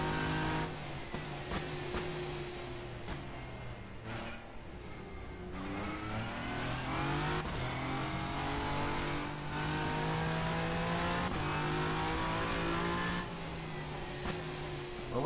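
Race cars in the rFactor 2 sim racing game roar steadily, engine tones climbing and dropping through repeated gear shifts and revs, with several cars overlapping in a continuous, moderately loud drone.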